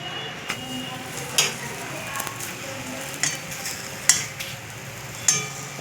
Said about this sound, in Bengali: এবার এই ভেজে নিচ্ছি আমি একটা একটা করে সব